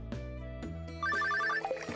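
Telephone ringing in the game Stardew Valley, a bright electronic ringtone with quick repeated trilling notes over a soft chiming musical background, close and clear with no speech.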